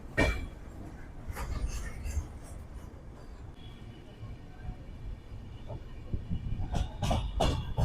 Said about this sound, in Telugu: పక్కనే మన పెట్రోలియం ట్రైన్ వెళ్తుంది.